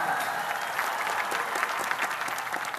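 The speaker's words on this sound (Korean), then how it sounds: "박수 주시기 바랍니다." An audience at a dance contest applauds warmly, a dense, continuous crowd clapping that fills the space without any talking over it.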